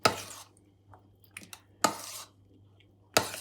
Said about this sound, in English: So I've taken the mincemeat out of the jar, and we'll give it a little mix in here.